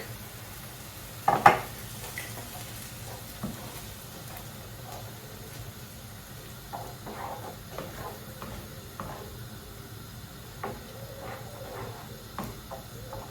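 A simmering dish stirred as coconut milk is worked in, with a soft sizzle and hiss throughout, one louder clatter early on, then gentle intermittent scraping.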